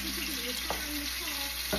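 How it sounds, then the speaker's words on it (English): Lamb chops sizzle in hot oil in a large frying pan, a steady close crackling hiss with a couple of sharp pops and faint clinks, no voices. "we're going to fry it on that side right there and allow all of the good juices of the lamb get into the frying pan"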